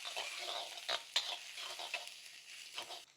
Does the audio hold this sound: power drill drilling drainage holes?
no